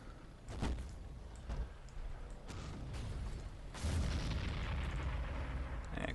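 Mortar rounds boom in the Men of War battle game, several heavy thuds spaced across a few seconds over a continuous rumbling battlefield background.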